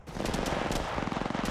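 Rapid gunfire bursts from a game of Apex Legends Mobile, loud and continuous with dense overlapping shots and short rhythmic volleys, no talking.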